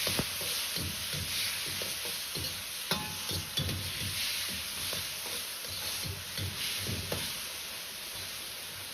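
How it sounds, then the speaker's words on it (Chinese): Diced potatoes and softened tomatoes stir-fried in a wok, with steady rhythmic spatula scrapes over a continuous low sizzle, close and fairly even throughout with no voices. "把西红柿炒至软烂，接着倒入控干水分的土豆丁一起翻炒"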